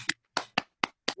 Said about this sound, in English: One more round of applause for Kofi